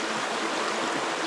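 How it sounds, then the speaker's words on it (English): Water running steadily through a gravity filter into a jug at a snowy winter campsite, a continuous close hiss of flow with no talk. "Gravity pulls the water through the filter, fills up my jug."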